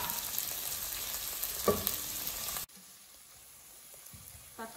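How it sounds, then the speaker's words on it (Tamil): Tomatoes fry and get mixed in a pan with a close, steady sizzle and a stirring scrape, then the sound drops abruptly to a quieter, fainter simmer with light stirring. "இந்த தக்காளி ஆட் பண்ணிவிட்டு மிக்ஸ் பண்ணிடுங்க. தக்காளி குக் ஆகட்டும்."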